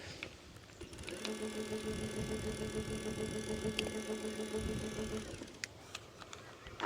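An e-bike conversion motor on a full-suspension mountain bike runs on throttle, giving a steady whirring mechanical whine with a constant tone for about four seconds before stopping, recorded close with some background rustle.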